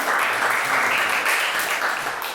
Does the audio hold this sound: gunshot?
no